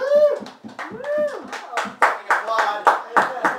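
Guests at a birthday roast clap in sharp, close bursts while voices whoop and cheer loudly over the claps.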